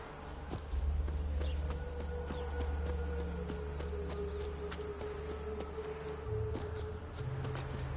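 A horse walking in The Witcher 3: Wild Hunt, its hooves clip-clopping in a steady, even rhythm over a continuous low ambient drone and faint background game sounds, with no speech.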